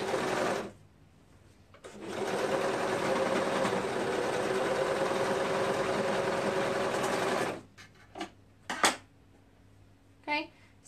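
A sewing machine stitches a shoulder seam on a color-blocked tunic, running in one steady, whirring burst of about six seconds. Short taps and handling clicks follow in a quiet room.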